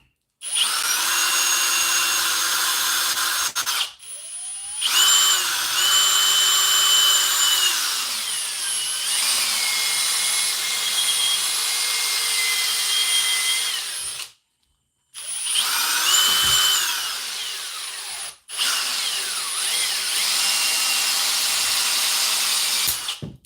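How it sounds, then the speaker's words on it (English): A power drill whines in long bursts with short silent gaps, its pitch sagging under load as the bit grinds into deer antler. "Oh, broke my drill bit."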